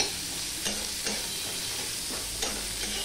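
Sliced onion fries in hot oil with panch phoron tempering, making a loud, continuous sizzle broken by a few scraping stirs at irregular intervals.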